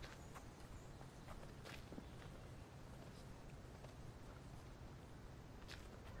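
Quick, soft footfalls of an animal scurrying around in a survival video game, faint and steady against a constant hiss of background ambience, with no talking.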